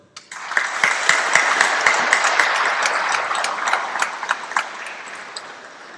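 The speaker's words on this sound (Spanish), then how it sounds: "le damos las gracias a los expositores con un fuerte aplauso" A seminar audience applauds the speakers: the clapping swells quickly to a lively, dense burst and then gradually thins and fades, with a few louder individual claps standing out.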